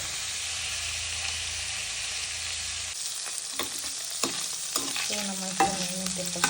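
Anjal fish frying in a pan gives a steady broadband sizzle, with scrapes and light clinks from stirring joining in later and a brief voice near the end.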